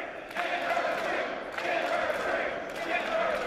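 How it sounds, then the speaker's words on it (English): A wrestling crowd at a live match chants in unison for a beer, rising in three rhythmic surges over a steady arena roar. "And the crowd calling for a beer,"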